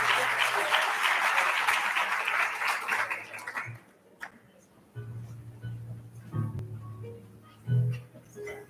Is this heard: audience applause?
yes